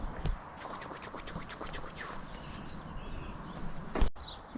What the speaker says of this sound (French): Écoute le bonheur que c'est d'entendre les oiseaux chanter de bon matin aux abords de ces arbres fruitiers.